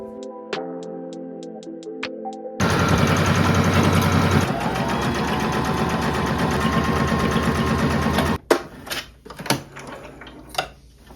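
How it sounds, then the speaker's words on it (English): Sewing machine stitching along a U-shaped seam in thrifted fabric for DIY bloomer shorts, a loud steady whirring run of about six seconds after a few light clicks, then stopping with scattered handling knocks. "And now I can sew right along this U shape here."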